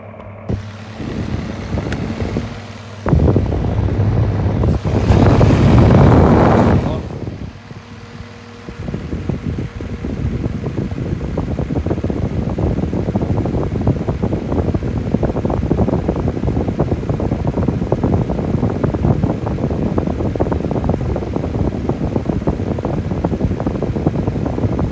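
A Presto 6 inch white desk and clip fan and a 2001 Honeywell 7 inch fan both run on high, giving a loud, steady whoosh of moving air and motor hum, with a brief louder burst early on.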